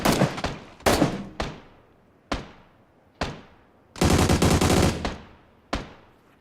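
Loud gunshots in the video game PUBG crack out one by one with echoing tails, broken by a sustained burst of rapid automatic fire near the end.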